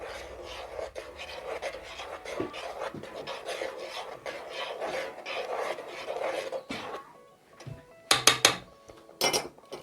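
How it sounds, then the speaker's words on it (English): Garlic, onion and hickory smoked powder are stirred in a pan over high heat, a utensil scraping and rasping across the metal in repeated strokes, then a few sharp clinks near the end. "To a nice high heat, stir it all together."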